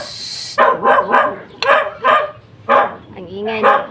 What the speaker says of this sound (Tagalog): so yan sobrang ingay niya pag may ibang aso po